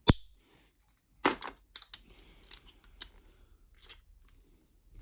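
Pressed-in dowels being pulled out of the ABS plastic body of a Triton Caselona shower valve, a sparse series of sharp plastic clicks, cracks and scrapes at close range with quiet gaps between.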